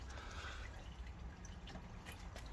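Old engine oil drains from a BMW 5 Series during an oil change, a faint, steady trickle with soft drips throughout and no talking.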